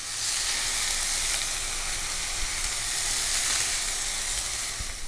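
Safi fish fries in a hot, smoking pan, giving a steady, close, broadband sizzle that crackles with small pops and holds level for about five seconds with no voices.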